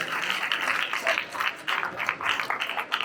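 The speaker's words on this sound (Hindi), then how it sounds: "तो एक बार जोरदार तालियां हो जाए।" Audience applause at a live Hindi stage show, a dense, steady wash of many hands clapping at moderate volume with slight swells, no voices on top.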